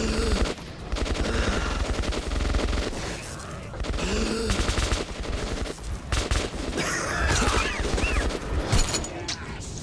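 Rapid, sustained gunfire from the video game Metro 2033 rattles loudly through the whole stretch, dense bursts with brief gaps, while a player's voice shouts over the shooting at times.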